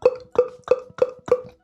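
A beatboxer makes the hollow clop with the mouth, imitating a hollow knock. Five evenly spaced, resonant pops come about a third of a second apart, close and isolated.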